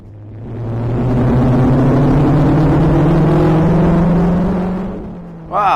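Formula Ford race car at Snetterton approaches and sweeps past on the inside, its engine note rising loud and steady, then fading away.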